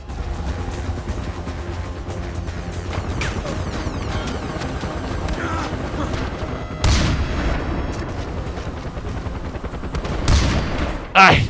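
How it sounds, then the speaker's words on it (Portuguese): Barrett sniper rifle fire in the video game Far Cry 4, during an airport assault: several loud, sharp booming shots stand out over a continuous backdrop of game gunfire and battle noise. "vamos ver se eu consigo dar um tiro de Barret no piloto"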